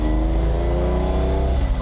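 A sports car engine roars at high revs, a loud, rich, sustained growl with rising harmonic tones, close by and continuous.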